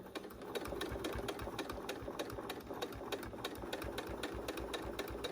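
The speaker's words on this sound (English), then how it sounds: "So, going to just sew all the way around." A sewing machine stitches all the way around the edge of a fabric hot pad, its needle running in a steady rapid mechanical rhythm with a continuous motor hum, close and even throughout.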